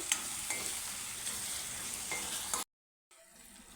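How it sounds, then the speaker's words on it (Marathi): Chickpea paste stir-fries in a hot masala, a steady sizzle with a few scraping stirs, then a sudden cut to silence before the quieter frying resumes. "तर परतवून घेऊ एकदा थोडंसं"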